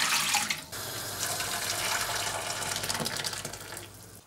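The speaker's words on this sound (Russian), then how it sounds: "Теперь я его заливаю хорошей фильтрованной водичкой и довожу воду до кипения." A steady stream of filtered water pours and splashes into a cooking pot holding beef udder, close and continuous, easing slightly toward the end.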